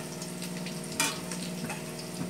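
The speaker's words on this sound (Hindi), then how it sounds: "ये है प्याज टमाटर मटर का तड़का, इसमें हमने डाला है लहसुन दालचीनी लौंग और अच्छे से हमने इसका पेस्ट बना लिया है और ये फ्राई हो रहे हैं।" A paste of onion, tomato, peas, garlic, cinnamon and cloves fries in a pan with a continuous close sizzle, broken by one sharp stirring scrape.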